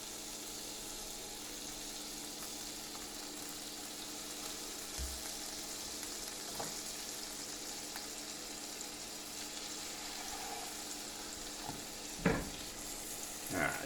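Butter sizzling in a frying pan while buttermilk pancakes cook, a soft steady hiss running throughout, with occasional scrapes and a couple of sharper clatters near the end, fairly faint and close.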